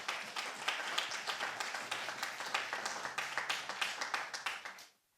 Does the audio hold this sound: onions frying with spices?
no